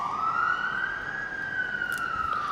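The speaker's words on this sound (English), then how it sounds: "Oh, there goes the ambulance." An ambulance siren in Jerusalem wails loudly with a single long rising and falling tone over steady traffic rumble as the vehicle passes.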